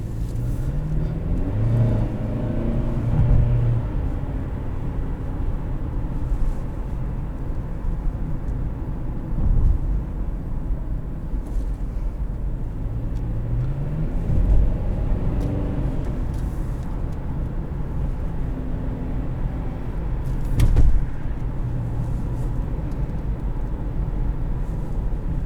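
A 2016 Lexus NX200t with a six-speed automatic driving along, steady low engine drone and road rumble from inside the cabin, with a few swells as it accelerates.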